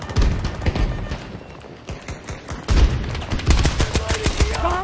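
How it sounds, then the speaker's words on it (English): Rapid gunfire from a new season 1 weapon in the Battlefield 2042 shooter, with dense overlapping shots and heavy thumps in a loud, continuous fusillade throughout. "Kicks like a mule, this one!"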